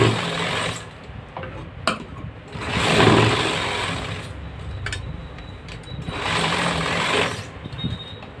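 A sewing machine stitches a shirt collar in three sustained runs separated by short pauses, the motor whirring steadily and close by.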